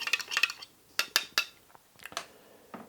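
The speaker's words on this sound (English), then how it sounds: "We give that a good stir" Milk, beaten egg and melted butter are stirred in a bowl for pandesal dough, a run of quick, close utensil clinks and scrapes against the bowl in uneven bursts.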